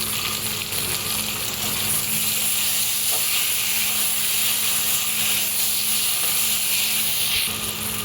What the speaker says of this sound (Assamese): হালধিও দি দিলে নিমখো দি দিলে আলুখিনি ভাজি ল'ব ৰঙচুৱা হ'লেকে